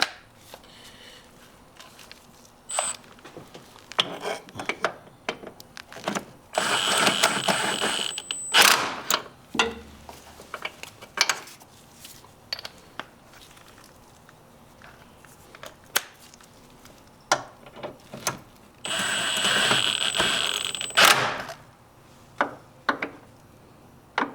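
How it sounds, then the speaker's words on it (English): An impact gun fires short bursts on the motor mount bolts of a 2017-2020 Hyundai Elantra, with two longer rattling runs among scattered clanks and knocks in a garage. No one speaks. "I'll go ahead and use the impact gun just to finish them off"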